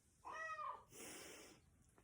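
A kitten gives a clear, near meow with a tonal rise and fall, followed by a softer breathy second call or purr-like sound, alone with no talking.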